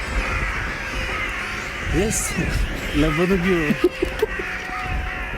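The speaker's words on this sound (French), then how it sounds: "Des corbeaux à foison." Crows caw outside a manor in a short burst of harsh calls partway through, set against steady outdoor background noise while people talk nearby.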